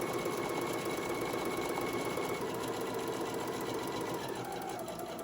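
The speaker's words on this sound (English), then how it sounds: "I'm going to sew it all the way down to the end of this piece" A sewing machine runs steadily, stitching fabric for a Santa-themed tote bag, a continuous close whirring hum at even speed with no pauses and no talking.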